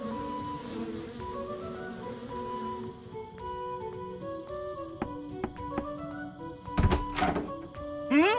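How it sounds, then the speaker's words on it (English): Buzzing bees in the adventure game Kelvin and the Infamous Machine: a steady insect drone under layered game audio, with scattered soft thunks and taps and a louder whooshing burst near the end. "Stupid, greedy bees never want to share their honey with anybody."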